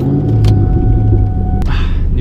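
Cobra car engine rumbling loud and deep up close as the car is eased forward, a steady low throb with a brief mechanical clunk near the end.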